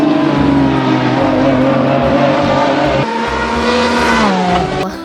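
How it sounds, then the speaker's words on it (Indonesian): A red toy Lamborghini race car with black wheels gives a loud, continuous revving engine effect that rises in pitch and holds strong before a brief drop near the end, with no talking. "ada mobil Lamborghini"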